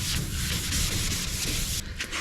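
Steady abrasive rubbing of sandpaper over a car body panel being prepped for spray paint, a continuous broadband scratchy hiss that eases slightly near the end, close and fairly loud.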